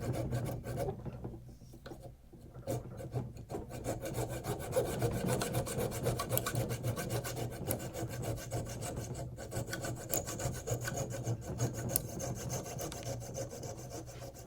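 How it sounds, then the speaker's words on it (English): A Stumac razor saw rasps back and forth through wooden guitar bridge stock in quick, steady strokes, close and fairly quiet, with no voices. "That's a Stumac razor saw we use to cut it down to size"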